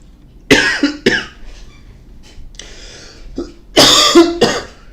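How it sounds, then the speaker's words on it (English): Several harsh coughs from an adult with a bad cough come close and loud, in a few separate bursts with a throat-clearing rasp between them. "Man, I have such a bad cough."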